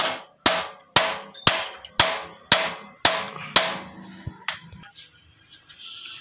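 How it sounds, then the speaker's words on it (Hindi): A flat-head screwdriver taps a bolt on a Honda CD 70 motorcycle's front shock rod: about eight sharp, close metallic knocks at a steady pace, then a few softer, fading taps. "सिंपल एक सिंगल मुंह वाले पेचकस से इसको यहाँ पे ना हल्की सी चोट लगानी है।"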